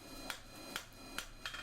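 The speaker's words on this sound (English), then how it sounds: "hitting with the rounded edge of the hammer" Four sharp metal taps from the rounded edge of a hammer striking a workpiece while shaping a horse-head back scratcher, spaced about half a second apart, moderately close but faint over a steady low hum.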